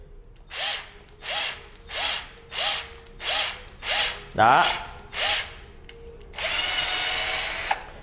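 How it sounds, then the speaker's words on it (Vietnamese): A Worx cordless power drill with a low battery drives in repeatedly, short whirring bursts in an even rhythm, eight pulses then a longer sustained run, close and clear, with a brief spoken word partway through. "rút ra thì dễ, khoan vô thì nó hơi mệt à,"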